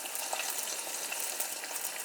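Eggs frying in butter in a pan, a soft, even, continuous sizzle with faint crackles, steady and moderately quiet with no voices.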